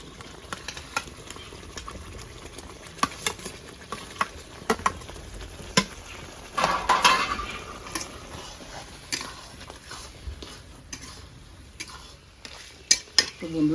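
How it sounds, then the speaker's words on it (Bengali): Fried potatoes being stirred into a simmering gravy in a pan, with steady sizzling and frequent sharp scrapes and clicks of a spatula against the metal throughout, close up, with no talking. "আলুটা আমি গ্রেভির সঙ্গে কষে নিলাম ভালো করে"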